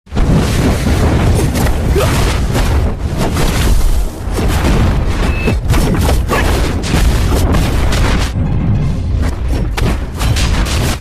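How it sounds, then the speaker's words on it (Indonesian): Loud, continuous booming blasts roll one into another, a dense rumbling barrage of explosions with no pauses. "Bentrokan serangan mereka menyebabkan ledakan di mana-mana"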